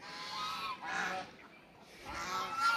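Geese at a fish-farming pond honk in a few short bursts, somewhat faint and distant, with no one talking.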